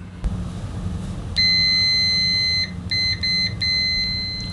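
A LOMVUM DM616 multimeter gives a loud, steady high electronic continuity tone, sounding once for over a second, then in a few shorter broken beeps, over a low room hum.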